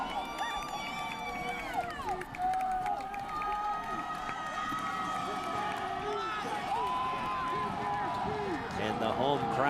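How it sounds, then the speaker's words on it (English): A home crowd roars steadily at a high school football game between Dubuque Hempstead and Cedar Rapids Prairie, a broad sustained wash of cheering and shouting with whistles and voices layered throughout. "And the home crowd is heard again."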